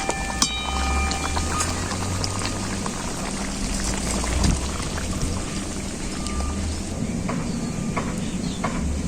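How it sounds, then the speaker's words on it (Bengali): A pot of dhendal curry broth at a steady boil, with continuous bubbling and soft popping close by under the low rumble of the heat, and no talk over it. "ঝোলটা খুব ভালোভাবে ফুটে গেছে"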